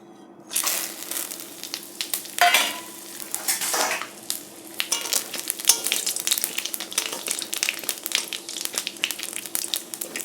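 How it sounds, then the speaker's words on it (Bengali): Fish sizzles steadily in hot oil with ginger, green chili, turmeric and cumin powder, with scraping stirs and occasional utensil clinks on the pan, close up and fairly quiet, no talking. "মশলাটা দিলাম মাছটা সুন্দর করে ভেজে নিই"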